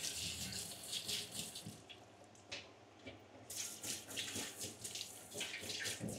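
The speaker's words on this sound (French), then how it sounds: "Je les rince." A kitchen tap runs steadily while food is rinsed under it for cooking salmon and rice, a loud, close, continuous hiss of water with splashes and faint rattles, briefly changing tone partway through.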